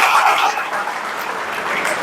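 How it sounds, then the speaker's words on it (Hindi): An audience at a motivational talk on youth claps together in a sustained burst of applause, loud and dense for the whole moment, with no talking over it. "एक बार जोरदार ताली बजाइए अपने लिए"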